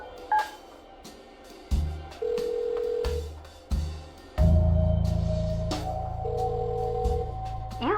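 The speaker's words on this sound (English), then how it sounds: "Use the phone. Call." Telephone being dialed in the video game Kathy Rain 2, a series of handset clicks and DTMF key tones followed by sustained dial and line tones, all fairly close and clear.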